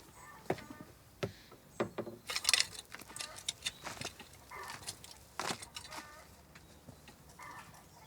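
Domestic hens on a property in the Cévennes, scattered clucks and short calls mixed with rustling and knocks nearby, with people talking intermittently over them.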